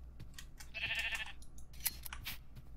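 Sheep sheared for wool in modded Minecraft: a crisp snipping burst of shears followed by a short bleat and a few light clicks, fairly close and with no talking.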